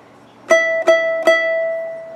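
Three sharp plucks of a guitar's bottom string fretted high up the neck, each struck by the ring finger, about a third of a second apart, ringing clearly and sustaining after the last, close and alone.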